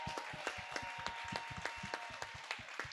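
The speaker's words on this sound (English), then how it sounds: "Can we get one more round of applause for everybody on stage?" Audience applause at an evening social club event at the Exploratorium, a fairly faint, steady patter of many hands clapping, with brisk irregular claps over a soft crowd murmur.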